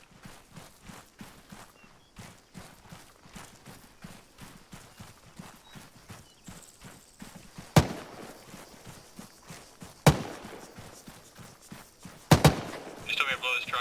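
Loud, sharp gunshots crack out three times at spaced intervals over steady footsteps and movement during a military realism training exercise for a Special Forces unit, with voices talking in the background.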